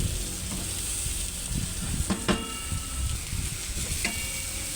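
Minced garlic and onion sautéing in a pan as aromatics for a kids' spaghetti, a steady close sizzle with a few brief clinks of stirring.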